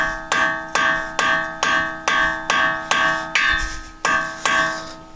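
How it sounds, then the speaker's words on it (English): A hammer strikes a Phillips bit set in a front brake screw on a 2016–2021 Honda Civic, eight sharp metallic blows in a steady rhythm with ringing decay, close and loud. "I'm going to hammer this just to loosen the screw"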